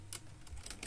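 A few soft, quick keystrokes on a computer keyboard while entering a command in an Arch Linux setup, faint and close, spaced irregularly over a brief moment.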